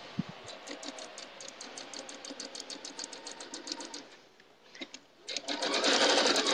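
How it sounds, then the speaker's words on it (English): Sewing machine stitching pieces of quilt fabric for a log cabin quilt, a fast steady run of needle clicks that pauses briefly, then resumes louder and busier near the end. "So we'll go ahead and sew this again."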